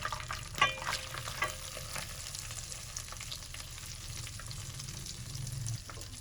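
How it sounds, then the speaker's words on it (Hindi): Coarsely ground chana dal, ground to a semolina-like texture, roasting in a pan over a low flame for halwa, with a steady soft sizzle and occasional stirring scrapes throughout, no voices. "और इसको हल्की आंच पे हम भूनेंगे।"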